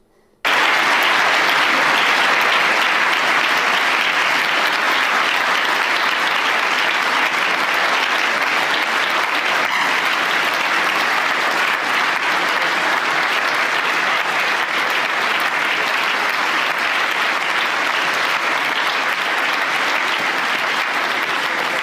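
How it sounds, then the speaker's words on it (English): A crowd at a Democratic Party political event gives a standing ovation, with loud, dense applause and cheering that holds steady and unbroken throughout. "giving him a standing ovation"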